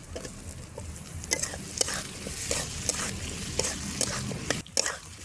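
Cut potatoes being stirred in frying ground spice paste with green chillies for a bottle gourd greens and prawn-head dish, a close sizzle broken by repeated scraping and tapping strokes of a spatula.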